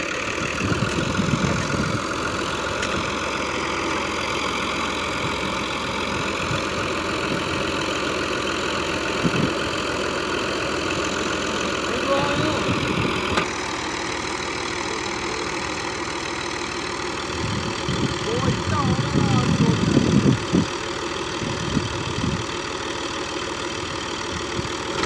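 An Al-Ghazi 65hp tractor stuck badly in mud, its engine chugging steadily at a medium pitch throughout, with bursts of rougher churning as the tyres slip, heard from nearby.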